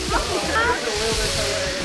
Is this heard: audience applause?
no